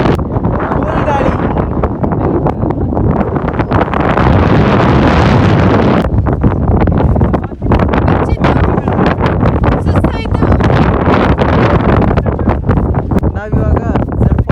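Strong wind roars against the microphone on a hilltop at Z Point, Chikmagalur, in steady loud gusts with brief dips. People talk throughout.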